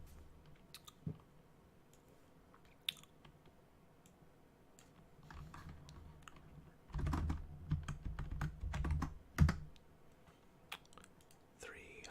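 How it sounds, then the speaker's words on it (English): Close-up computer keyboard typing in quick bursts with scattered mouse clicks while playing World of Warcraft, a quiet stretch early on, then busier clattering in the middle. "Enjoying these sounds from my keyboard and from my mouse."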